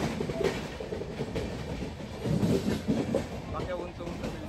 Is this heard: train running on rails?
yes